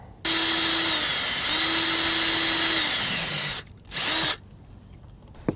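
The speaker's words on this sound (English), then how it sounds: "I'm going to drill into the redwood because I don't want to crack the redwood." A power drill boring into redwood whines steadily for a few seconds, pauses briefly, then revs again in a short burst before stopping; close and loud.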